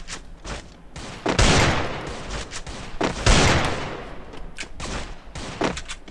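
Gunfire in a shooting video game, several loud sharp shots and short bursts spaced irregularly across the stretch, close and punchy with brief gaps between.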